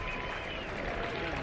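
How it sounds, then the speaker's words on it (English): Crowd at a Tigers vs Cardinals spring training baseball game applauding Miguel Cabrera, a steady broad wash of clapping heard at a distance, continuous through a brief moment. "a nice round of applause for Miguel Cabrera"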